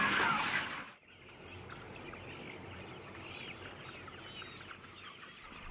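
A sick broiler chicken in a crowded shed, heard over dense, steady peeping and clucking from many birds. A loud rush of noise comes first, and the flock chatter carries on at moderate volume.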